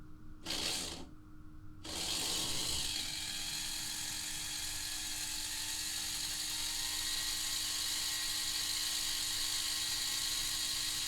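A CD motor fitted in a Lima Class 121 model locomotive spins up after a brief start and stop, settling into a steady, high-pitched whirring hum with a faint gear buzz.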